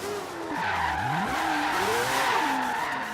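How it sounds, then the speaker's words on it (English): Tires squeal in a long continuous skid as a car drifts through a corner in Forza Horizon 3, the pitch sliding up and down over a steady engine drone, loud and close throughout. "Trying going in slower and initiating your drift earlier."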